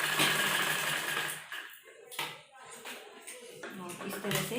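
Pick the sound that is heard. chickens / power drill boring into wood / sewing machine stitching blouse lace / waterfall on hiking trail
sewing machine stitching blouse lace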